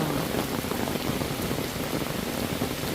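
Sudden rain pours steadily onto a mesh mosquito tent at an auto campsite beside a valley stream in a mountain recreation forest, a dense continuous hiss of drops close by, with no talking.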